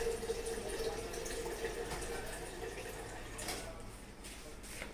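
Normal RO water pours steadily into a glass bottle, a close continuous splashing trickle that fades slightly toward the end, with no talk over it.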